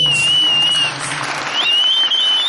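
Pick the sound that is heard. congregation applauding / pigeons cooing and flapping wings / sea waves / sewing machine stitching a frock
congregation applauding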